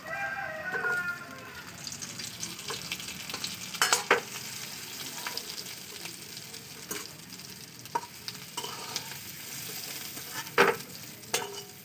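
Teasel gourd (kakrol) pieces frying in hot oil, a steady soft sizzle running throughout with occasional louder clinks and scrapes of a utensil against the pan, no voices.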